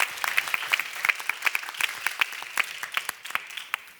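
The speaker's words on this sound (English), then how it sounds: "A round of applause for our second project today." Audience applause at an awards ceremony in Berlin, a lively patter of individual claps from a modest crowd, close and fairly loud, continuing steadily throughout.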